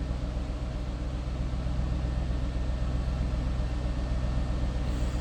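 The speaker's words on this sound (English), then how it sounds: "Nice deep throaty exhaust note." A 2009 Ford Mustang Bullitt V8 runs at a steady idle, a low, continuous throaty rumble from the exhaust, moderately quiet and unbroken, with no talking.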